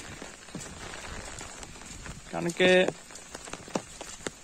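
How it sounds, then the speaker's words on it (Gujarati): Rain patters steadily around an outdoor spot as a man walks under an umbrella, a soft constant wash of drops with a brief louder burst midway and a few words spoken over it. "અને વરસાદ પણ એક વાર ચાલુ છે"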